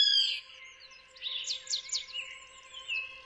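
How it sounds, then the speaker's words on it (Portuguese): Birds sing on a morning, with a few bright chirps and short warbling phrases rising over a quiet background with a faint steady hum, moderately near and without talk. "O canto dos pássaros"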